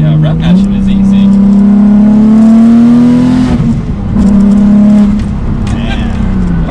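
A turbocharged Nissan 350Z accelerates through the gears, its engine note climbing loud and close from inside the car, dipping briefly at a shift before pulling again, with voices over it.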